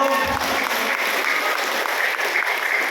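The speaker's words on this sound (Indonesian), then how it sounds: "Woi, tepuk tangan buat Vio." Crowd applause at a district-wide Islamic religious gathering, a brief burst of dense, even clapping from many people, loud and close, filling the short stretch without pause.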